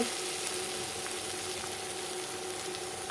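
Tomatoes hitting hot oil with cooked-down spices in a pan for a katla fish curry, giving a steady, close, continuous sizzle and hiss that holds evenly throughout with no talking.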